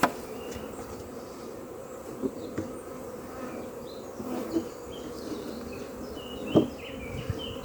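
Honeybees fly around an open hive during swarming season. Their steady, low buzzing hum goes on throughout, with faint clicks and knocks of hive handling nearby and no talk.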